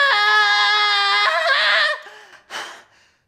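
A man's loud, sustained scream with a strained tone, breaking off and followed by a short breathy gasp before silence.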